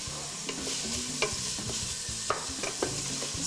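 Sausage gets stirred in a hot pan with onion, garlic and carrots, steady sizzling broken by repeated scraping strokes and light knocks of a utensil, close and fairly quiet.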